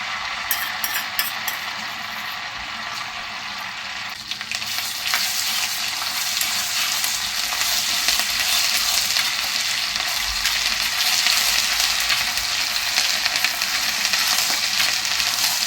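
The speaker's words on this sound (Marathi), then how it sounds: "आता या तेलामध्येच आपल्याला इथे थोडीशी हळद घालून घ्यायची, त्यामध्येच आलं लसूण पेस्ट घालायचे" Turmeric and ginger-garlic paste dropped into oil on a tawa, a quieter sizzle at first with a few small clinks, then a loud bright frying hiss that stays close and steady with occasional stirring scrapes.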